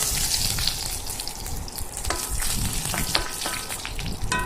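Dried red chillies fry in hot oil with a dense, steady sizzle and crackle throughout, with a few sharper pops and the faint scrape of stirring, close and loud with no voices.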